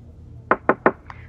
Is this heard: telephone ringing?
no